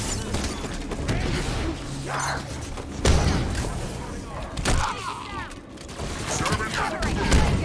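Gunfire rattles through a Halo 5 Guardians battle, with bursts of shots, thuds and mechanical clanks layered over game music and effects, while a voice talks intermittently.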